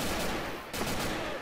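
Explosive rounds fire in the video game Left 4 Dead 2, a dense, loud burst of shots lasting about a second and a half with no talking.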